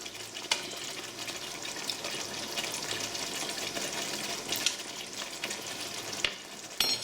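Jeera potatoes in a spiced gravy simmer and sizzle in a pan, a soft, steady bubbling crackle with occasional stirring clinks, close but quiet and with no one speaking.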